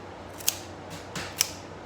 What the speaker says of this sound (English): I don't need these to be this long, so I'm gonna cut off